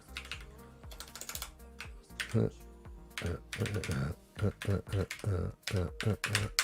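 Fingers type on a computer keyboard in quick irregular bursts of clicks and taps, some louder strokes standing out, close to the microphone.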